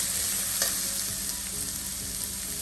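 Shredded cabbage sautéing in a pan for vegetable fried rice, a dense continuous sizzle with faint stirring scrapes and small clicks, close and steady, no voices.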